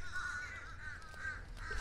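Crows or ravens cawing outdoors during hurricane cleanup, a few harsh, repeated calls heard faintly at a distance over low background rumble.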